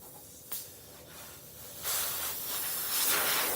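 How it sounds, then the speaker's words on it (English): Air hisses steadily out of a car tire punctured by a nail in a garage, a faint close-up leak that swells louder partway through and keeps going. "we're losing air"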